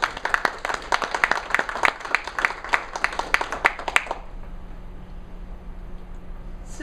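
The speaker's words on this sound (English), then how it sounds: "So please give yourselves a round of applause." An audience at a school district accreditation exit report breaks into applause, a dense burst of clapping lasting about four seconds before it abruptly stops, leaving quiet room noise.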